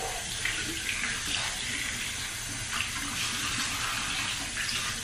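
Hot tap water runs steadily from a faucet while something is rinsed out, a continuous close hiss and splash with slight fluctuations and no speech over it.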